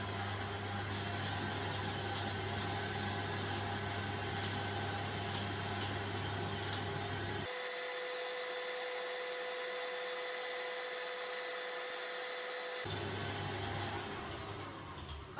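An electric mixer whirs steadily through vanilla cupcake batter, close and continuous, its pitch dropping for a few seconds midway before returning to the higher whine.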